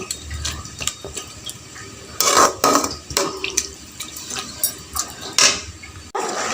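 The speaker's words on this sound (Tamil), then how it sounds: "அரை டம்ளர் தண்ணி சேர்த்துக்கோங்க" Water splashes and trickles into a pan of chicken curry with clinking and stirring sounds, close by, in uneven bursts.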